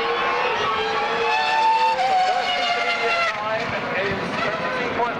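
A Toyota Formula One car on a qualifying lap at the 2005 United States Grand Prix, its high-pitched engine screaming loud and steady, shifting through gears, with commentary over it.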